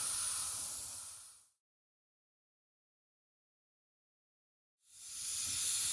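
An airbrush spraying paint for a spring crocus painting, giving a steady airy hiss that runs about a second and a half, cuts to silence, then resumes near the end.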